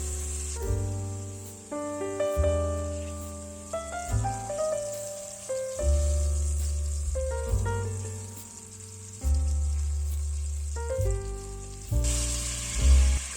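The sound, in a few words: chicken drumsticks sizzling while frying in a pan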